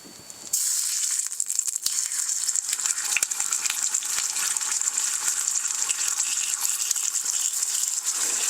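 Bacon frying in ghee in a pan inside a hot tent, a steady bright crackling sizzle with scattered pops, continuous and close, starting abruptly.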